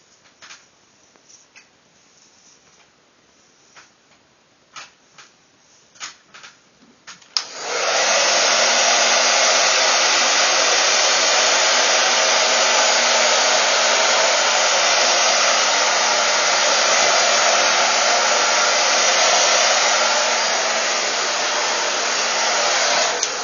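A loud hair dryer switches on suddenly after a few quiet clicks and keeps blowing with a steady, full roar to the end.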